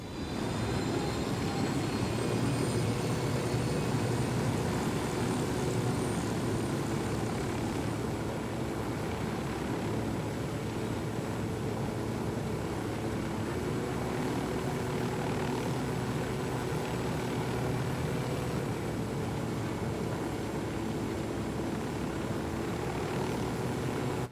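A helicopter flying in the video game Ghost Recon Wildlands, its steady droning rotor and engine noise holding at a constant, moderately loud level throughout with no talk.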